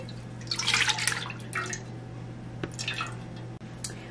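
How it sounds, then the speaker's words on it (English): A can of evaporated milk poured into a cooking pot for arroz con dulce, giving a short wet splashing burst followed by a few softer drips and trickles, close and fairly quiet with no talking. "you're gonna take your pot and you're gonna add a can of evaporated milk"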